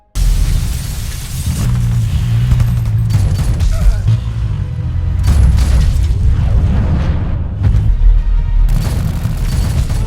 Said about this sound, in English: Cade throws a grenade to blow open the hallway